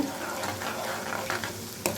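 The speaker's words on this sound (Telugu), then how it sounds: "తాలింపు అన్నది బాగా ఎగాలండి." Steady sizzling of tempering spices, including cumin, crackling in hot oil, with a few sharper pops and light stirring, continuous and close throughout.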